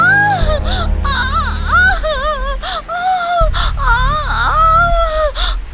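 A woman screams and cries in pain in a Hindi horror story, with long wailing, sobbing cries that rise and fall. They are loud and continuous, with strained gasps and a low droning sound beneath.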